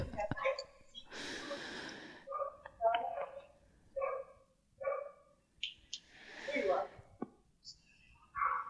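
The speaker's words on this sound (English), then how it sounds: "Hopefully the dog will stop barking." A small, yappy dog barks and snorts in sharp bursts during an indoor podcast recording, heard faintly under and between stretches of conversation.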